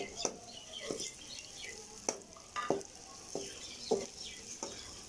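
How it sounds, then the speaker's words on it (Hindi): Cumin seeds and dried coriander stirred as they fry in a pan over medium flame, a soft steady sizzle broken by about eight crisp scraping strokes of a spoon at a loose, even pace. "जीरा और सूखा धनिया ऐड करने के बाद हम लोग मिक्स कर लेंगे।"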